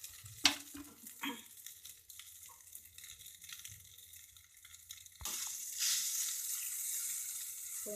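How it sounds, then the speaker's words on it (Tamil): Aval upma with tamarind and asafoetida being stirred in a pan, a few scraping knocks early on, then a steadier, louder sizzling hiss with soft stirring scrapes in the second half. "நம்ம அதனால் ஒரு நிமிஷத்துக்கு இது மாதிரி கிளறிட்டே இருக்கணும்."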